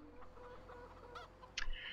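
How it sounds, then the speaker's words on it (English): Chickens in the farming game Farming Simulator 17 give a few soft clucks and a brief squawk near the end, faint against a quiet background. "Are the chickens stuck in the..."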